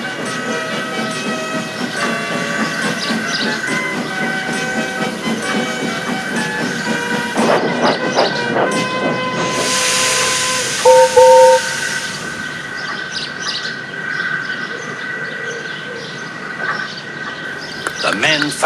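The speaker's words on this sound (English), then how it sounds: ""Poop, poop, little Thomas," Gordon whistled" A steam locomotive in a Roblox mine setting hisses steadily with rail rumble while a narrator reads, and a loud burst of steam venting rises midway alongside a short whistle tone.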